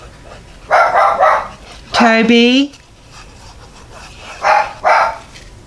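A small, normally quiet dog barks nearby in a short, whining burst, with a person speaking before and after it.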